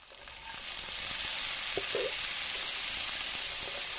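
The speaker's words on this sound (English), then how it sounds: "I grill up just a little bit of onion with beautiful pats of butter" Onion and garlic fry in butter with a steady, loud sizzle that starts quickly and holds evenly throughout, broken by a couple of faint clinks. No one speaks.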